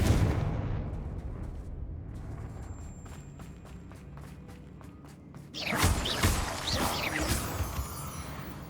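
Confringo blasting spell in Hogwarts Legacy: a fiery explosive burst erupts about midway through and crackles on, following a stretch of rapid rhythmic clicking and rumbling combat noise, with no one speaking.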